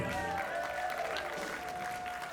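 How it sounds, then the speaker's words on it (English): Guests at a wedding reception applaud the wedding party, a steady wash of clapping from a crowded room that stays even throughout, with some voices and a faint tone beneath it. "let's give another big round of applause for our wedding party of this evening."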